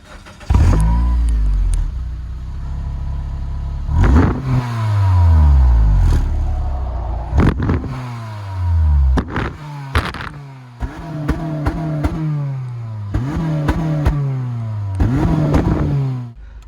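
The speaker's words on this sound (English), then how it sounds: "we're just going to show you what the stock Fn2 exhaust sounds like" A Honda Civic FN2 Type R with its stock exhaust revs repeatedly nearby, each sharp climb in engine pitch falling back to idle, the blips coming faster and closer together toward the end.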